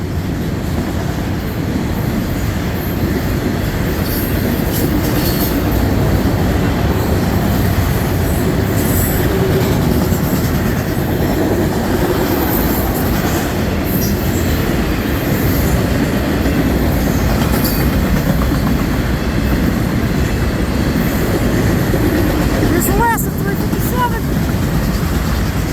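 A Canadian National freight train, the M357 led by locomotive 2872, passing at Ladysmith: a continuous loud roll of wheels on rail with clicking joints and occasional squeals, sustained throughout, with someone talking briefly over it.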